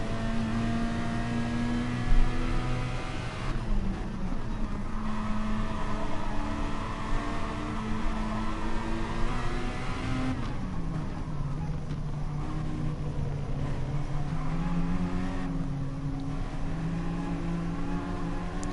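Race car engines in Gran Turismo Sport during a Blancpain endurance race, a continuous high-pitched engine whine with rising and falling revs through gear changes, loud and steady throughout with no talking.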